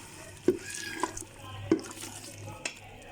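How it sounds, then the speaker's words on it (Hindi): Meat being stirred with yogurt and spices in a pot for aloo gosht, a few wet spoon scrapes and clinks against the pot over a soft simmering sizzle. "मैं इसकी अच्छी तरह से मिक्सिंग करूँगी।"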